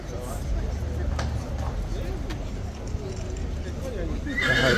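A cavalry trooper's horse on guard duty neighs near and clear over crowd chatter, with a few hoof clops on hard ground.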